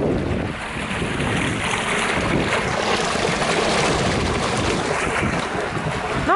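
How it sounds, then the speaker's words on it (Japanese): Steady rushing water from a river below a shopping street in Niigata runs continuously, a broad low roar filling the space with no pauses and no voices. "川が流れてるっぽくて、 ずっとロロロロロっていう音がしている商店街です。"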